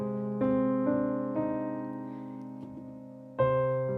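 Piano chords are struck in a steady pattern while a low C held by the thumb for the whole bar rings on beneath them, fading slowly before a fresh chord lands.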